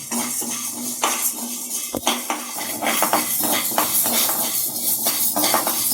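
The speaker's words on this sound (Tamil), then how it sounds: "மிளகையும் வெந்தயத்தையும் வறுத்துடணும்" Black pepper, fenugreek and black sesame seeds dry roasting in a pan, heard as repeated clinking and scraping of a metal spoon against the pan, close and fairly loud, with no voices.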